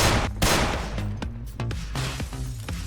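Gunfire in a John Wick-style shooting video game: a quick series of loud, sharp shots in bursts over a steady tonal game soundtrack.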